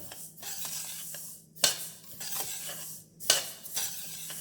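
Black sesame seeds dry-roasted and stirred in a pan for sesame laddu, a steady scraping rustle with brief louder scrapes of the spatula against the metal, close and alone.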